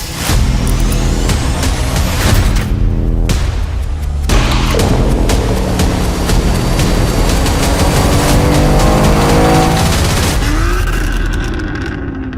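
BMW M2 G87 fitted with an MMR PCM tuning box revving hard on a dyno in sixth gear, a loud continuous engine roar climbing steadily in pitch, with brief lulls near the start before tailing off at the end.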